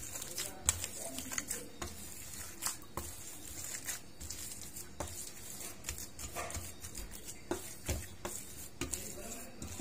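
Chicken kebab mixture with ginger, garlic and green chilli paste is stirred and mixed in a bowl, giving soft, irregular scraping and patting sounds with occasional sharper knocks, fairly faint and close.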